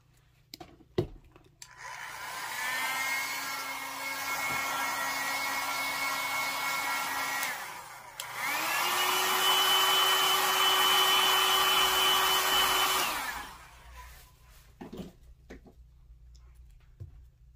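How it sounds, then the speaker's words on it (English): A handheld blow dryer fluffs a yarn pom-pom for a Valentine's Day craft gnome, whirring steadily for several seconds, pausing, then running again at a higher, louder pitch before cutting off; no one speaks over it. "You can take your blow dryer."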